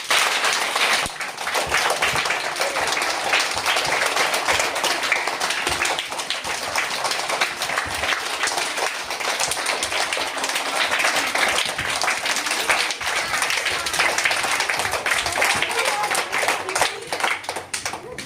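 A group of schoolchildren in a first- and second-grade classroom game claps for the winner, dense sustained applause that continues steadily and loudly throughout without a break.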